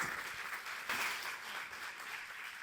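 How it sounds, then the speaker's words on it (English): Faint, distant applause from an audience at a women's business summit, a soft steady patter of hands that swells briefly and then settles. "Let's give them a big round of applause"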